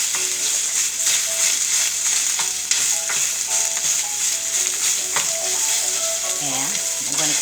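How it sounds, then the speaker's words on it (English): Ground Italian sausage sizzles loudly and steadily in a hot pan while a spatula scrapes and stirs it, a dense continuous frying hiss with occasional clinks and faint talk underneath. "now we're going to do the famous scramble of the ground meat"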